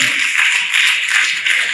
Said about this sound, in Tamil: வெரி குட், நல்ல கைத்தட்டல் கொடுங்க